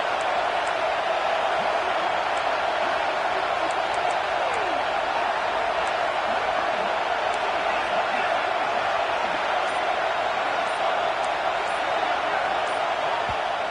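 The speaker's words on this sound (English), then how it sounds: "This crowd bringing the energy and noise early." A large stadium crowd roars continuously, a dense, steady wall of cheering and noise with no clear pauses.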